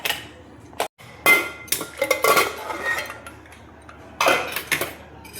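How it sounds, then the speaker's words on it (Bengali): A metal pressure cooker lid is opened after four whistles while cooking mutton curry, producing sharp metallic clanks and scraping knocks in close, loud bursts separated by short quiet gaps. "এবার আমি ঢাকাটা দেখো খুলছি।"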